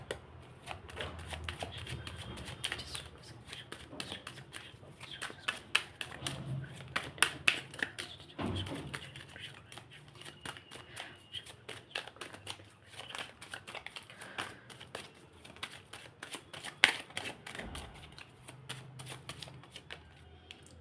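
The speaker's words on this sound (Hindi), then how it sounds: "जब तक मैं शफलिंग कर रही हूँ" Tarot cards being shuffled by hand, a long run of soft, rapid riffling and flicking bursts with brief pauses, close and fairly quiet, with no talking.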